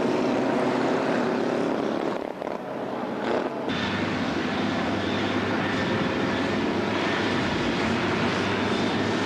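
Pre-war Austin Seven race cars pulling away on the green flag lap of a scratch race at Mallory Park: a dense, steady roar of several small engines droning together, loud and continuous, with a brief dip before the sound swells back.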